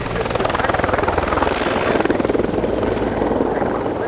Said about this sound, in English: Developed by the Build Design Bureau as an armed assault helicopter